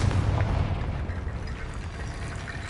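An explosive Confringo spell blast in Hogwarts Legacy gives a dense, booming rumble heavy in low end, steady and loud throughout with no voices over it.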